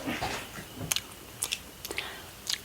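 Several sharp crunchy bites and chewing noises into the crunchy top of a hot homemade biscuit, close to the microphone, spaced irregularly over a couple of seconds.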